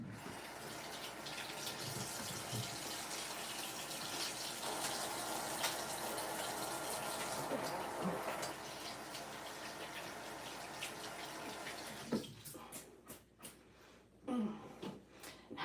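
Indoor tap running steadily into a sink during handwashing, a soft continuous rush for most of the time that then shuts off, followed by a few faint splashes and clatters.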